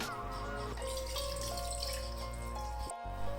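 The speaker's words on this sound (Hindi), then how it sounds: "यहाँ पे मैं एक कढ़ाई ले लूँगी और इसके अंदर तकरीबन 1 किलो के करीब दूध डाल दूँगी" About a kilo of milk is poured into a kadhai (wok), making a continuous liquid stream that splashes in the pan for a few seconds, near and fairly steady, with a brief break toward the end.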